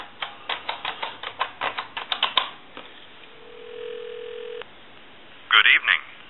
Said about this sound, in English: I'm going to give you some dial tone